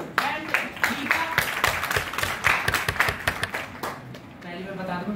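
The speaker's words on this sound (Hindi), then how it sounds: "जोरदार तालियां बजा दो" Audience at a college event breaks into loud, dense clapping, rapid irregular claps sustained throughout and tapering slightly near the end, with voices mixed in.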